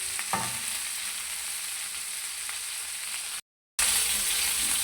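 Chicken tikka pieces fry on a hot tawa with a steady, close, dense sizzle that carries on evenly and is briefly cut by a short gap of silence before resuming just as loud; no one speaks.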